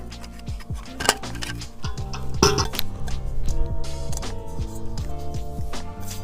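Light metallic clinks and ticks ring out close by as a small pan is set onto a little propane stove stand outdoors by a lakeside, several sharp taps scattered over a steady low background hum.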